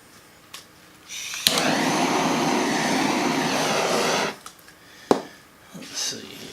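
A heat gun blows on art resin in a steady, loud whooshing roar for about three seconds, switching on sharply and cutting off, with quiet handling sounds around it.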